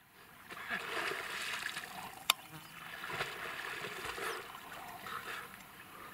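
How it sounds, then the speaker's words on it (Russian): Someone dips under the water of an outdoor pond, with soft splashing and sloshing, a single sharp splash in the middle, and faint trickling throughout at moderate distance. "Данил, ну-ка уйди под воду"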